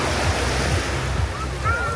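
Sea waves slosh and wash continuously out on the open water near Redang, with wind rushing over the microphone in a steady, dense roar.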